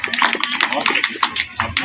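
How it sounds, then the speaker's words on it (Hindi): Loud clapping from the audience at a school foundation day celebration, dense and continuous with some voices mixed in. "जोरदार तालियां इन लोगों के लिए।"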